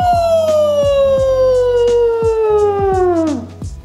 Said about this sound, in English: let me go ahead and get my diamond selector and see if this pendant will pass the diamond selector test